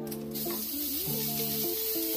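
An aerosol can of flour-based baking spray lets out a loud, steady hiss at close range. The spray runs continuously for a couple of seconds in a kitchen, with no one speaking.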